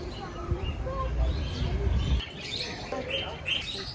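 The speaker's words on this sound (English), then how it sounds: "they rescue birds as well. Like, they've got some exotic ones." Rescued exotic birds at a bird rescue in Bournemouth chirp in short, bright calls, clearer in the second half, over a low rumbling background and muffled noise.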